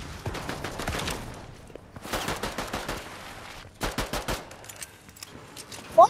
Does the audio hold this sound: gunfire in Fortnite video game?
yes